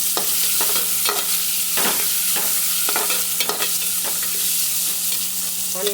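Onions sautéing in a pan with lentils already fried in the oil, a constant loud sizzle punctuated by regular scraping stirs of a spatula, no talk.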